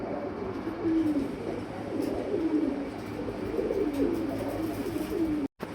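Pigeons of the shorting breed coo repeatedly at a farm, a series of soft, rolling, throaty calls close by over a steady background hum.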